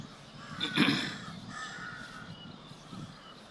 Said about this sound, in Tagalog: Ang daming uwak.